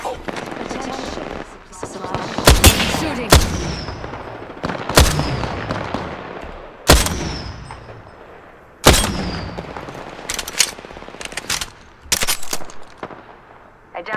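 Gunfire in the battle royale game Apex Legends, including a Mastiff shotgun: loud, close blasts roughly every second or two over sustained rattling fire and game noise, with occasional voice lines from the game.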